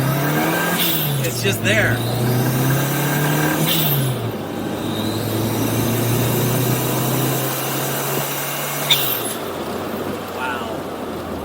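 A classic Mini Cooper Clubman Estate fitted with a JET Motors turbo kit pulls hard, its engine droning and climbing in pitch through the gears from inside the car, with someone talking over it.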